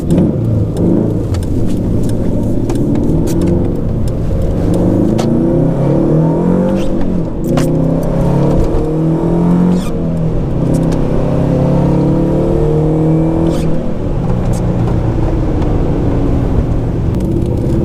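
A turbocharged Subaru engine with a boost leak pulls hard under boost, loud and close, its pitch rising and falling through several gear changes over nearly eighteen seconds.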